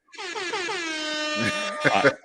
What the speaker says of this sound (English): Air horn, Brock.